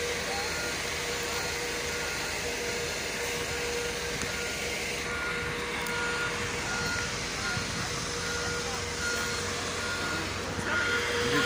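A bus backing up on a city street, its reversing beeps repeating faintly at a steady rhythm under constant traffic and engine rumble.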